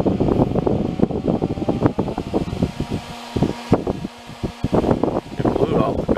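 A 120-volt computer power supply fan running off a variac whirs in pulsing bursts, slowing and speeding, with a steady hum in a quieter stretch; someone speaks over it.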